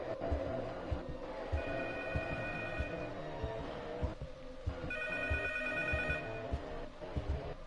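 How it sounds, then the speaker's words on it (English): A telephone rings in the horror video game P.T. on PS4, two bursts of steady electronic trilling over a dark, rumbling ambient background with faint pulsing thuds. "Phone is ringing."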